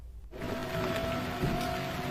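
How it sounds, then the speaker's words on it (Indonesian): Rain falling on a leaky tiled roof of a rented house, a soft, steady hiss of drops that starts after a brief quiet moment and carries on evenly and faintly. "Ketika hujan, genteng kontrakannya Adi bocor, tapi dia tidak punya duit untuk memperbaikinya"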